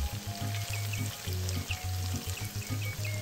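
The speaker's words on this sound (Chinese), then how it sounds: "将两片切成丁块状的豆干放入锅里油炸" Diced dried tofu deep-frying in hot oil in a wok, a steady close bubbling sizzle with a low rhythmic hum running underneath throughout.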